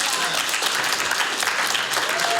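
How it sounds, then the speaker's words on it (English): A live studio audience at a comedy podcast taping breaks into a full round of applause, dense and even clapping throughout with faint cheering mixed in. "Round of applause."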